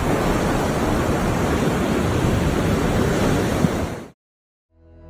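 Ocean surf crashes continuously in a loud, broad roar of breaking waves, then cuts off abruptly near the end, leaving a brief silence and a faint tail.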